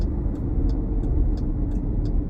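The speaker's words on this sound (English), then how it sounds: "We are here pulling up. I'm going to find a place to park," A car pulls up to park at a small car show, its engine giving a low, steady rumble while a faint, regular ticking repeats about every third of a second.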